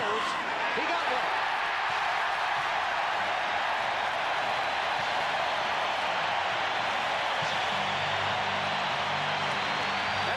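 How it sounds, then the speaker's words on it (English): A stadium crowd at a 1986 NFL football game between the Steelers and Seahawks roars in a sustained, dense wash of cheering that holds steady and loud from start to finish. "The biggest cheer of the day."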